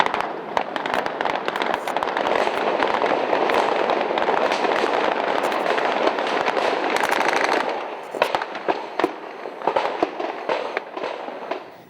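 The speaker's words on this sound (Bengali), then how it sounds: "তাদের উদ্দেশ্যে বিডিআর সৈনিকরা তুমুল গুলিবর্ষণ করে" Heavy gunfire during the Pilkhana BDR mutiny forms a dense, continuous crackle of rapid shots for several seconds, then thins into scattered sporadic bursts.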